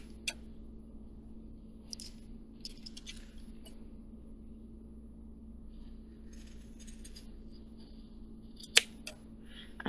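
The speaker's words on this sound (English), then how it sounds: "Now it says to trim the edges of the tab to the edges of the zipper." Scissors trim the edges of a fabric tab along a zipper during hand sewing, giving a few faint, sparse snips and rustles against a steady low hum, with no talk.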